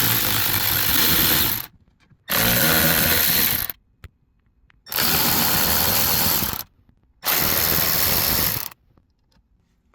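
A power driver spins out Torx T20 screws from an Audi Q5 MMI screen, with four loud, close bursts of whirring motor, each lasting one to two seconds and separated by short silences.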